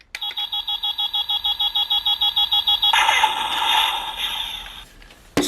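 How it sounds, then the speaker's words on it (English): Power Rangers SPD Canine Cannon toy emitting a rapid electronic countdown beeping in steady pulses for about three seconds, then a loud, sustained electronic blasting effect that fades away, all close up with no talking. "You get that sort of countdown beeping timer, and then you get the blasting sound."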